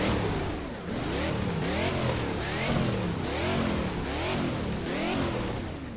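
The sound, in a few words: Chevrolet Camaro SS engine revving in video game Driving Empire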